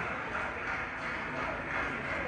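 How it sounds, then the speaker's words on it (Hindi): A roomful of ISRO scientists applauding after the Chandrayaan 3 descent phase, a continuous thick roar of clapping, steady and moderately distant, with no speech over it. "जी हाँ, आप इस तालियों की गड़गड़ाहट को सुन सकते हैं"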